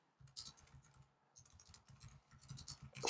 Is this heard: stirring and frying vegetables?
no